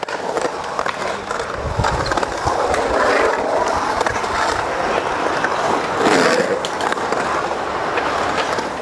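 Steady, loud road traffic roars beside an outdoor skate park on an afternoon session, a continuous broadband rumble with skateboard wheels rolling and clacking over it, no voices.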